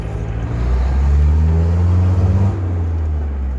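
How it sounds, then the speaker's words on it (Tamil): Steady low diesel rumble from the modified exhaust of a fully restored Hindustan Contessa 2.0L diesel car, idling close up with a brief swell in revs before settling back, no talk over it. "அதனால் வண்டியோட எக்ஸாஸ்ட் நோட் வந்து சூப்பராக இருக்கும்."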